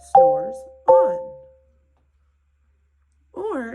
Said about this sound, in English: you get to play with your mallets, hands together on any two bars at the same time